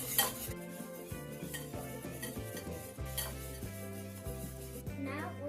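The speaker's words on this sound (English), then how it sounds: "now my sister is going to whisk it." Banana oat pancake batter is whisked in a bowl, producing quick metallic clinks and scraping stirs against a steady bed of background music.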